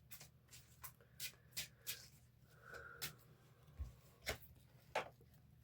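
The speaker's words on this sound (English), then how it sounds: "let's get a couple tarot cards" Tarot cards being shuffled, a run of soft crisp riffles and flicks in irregular bursts, close and quiet against a faint steady background hum.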